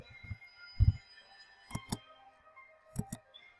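Computer keyboard keys clicked in short separate bursts of one or two taps, quiet and close, with a faint electrical hum between them.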